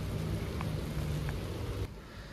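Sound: rain falling

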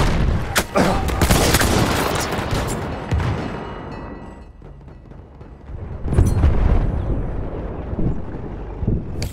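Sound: grenade explosion in the video game Battlefield 1

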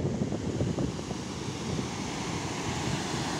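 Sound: waterfall

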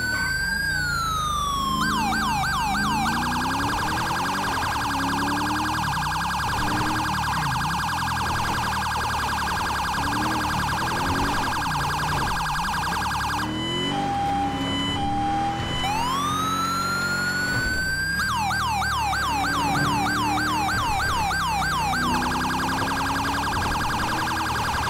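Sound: Mastercom B police siren in code 3, video game GTA V

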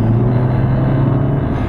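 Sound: VW MK5 GTI engine accelerating during boost test

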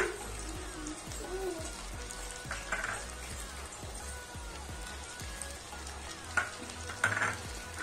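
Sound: sautéing carrot and capsicum with tomato on low flame

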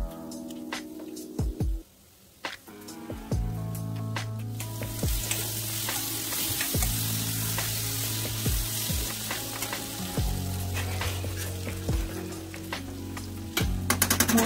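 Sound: potato pieces frying in a pan

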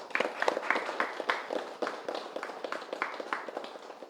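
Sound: audience clapping loudly

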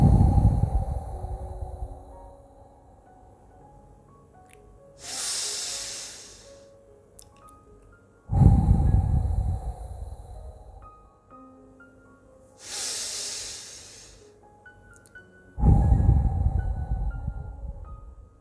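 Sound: deep breaths

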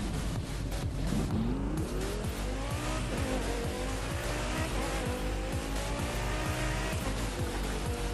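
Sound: car drifting with tire squeal in The Crew 2 video game

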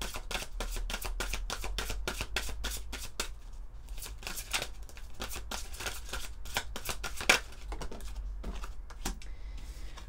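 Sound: shuffling oracle cards

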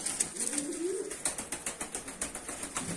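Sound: blue mardin pigeon cooing

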